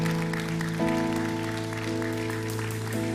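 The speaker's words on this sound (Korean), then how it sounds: "하나님께 감사와 영광의 박수를 올려드리길 소망합니다" A congregation claps in thanks during a Korean Protestant Sunday worship service. The steady, moderate applause fills the room beneath sustained keyboard or organ chords that shift once or twice.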